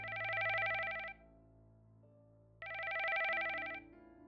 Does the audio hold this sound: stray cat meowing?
no